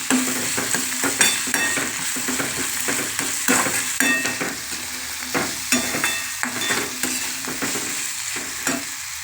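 Curry leaves frying and crackling in hot oil for a bottle gourd and prawn curry, a dense steady sizzle broken by repeated sharp spatter bursts and stirring scrapes, close and loud with no voices.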